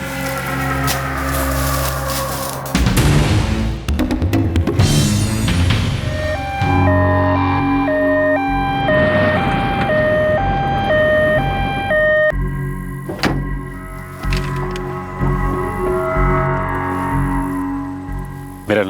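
An ambulance siren wails in a crime drama scene, its rising and falling tones cutting through dramatic background music and effects for several seconds.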